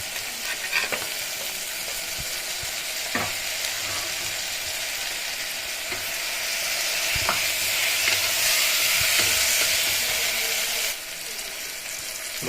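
Tomatoes frying and being stirred in a hot pan for a chukka kura (sorrel leaf) chicken curry, a steady close sizzle with scattered spatula scrapes and clinks, swelling louder midway, no voices.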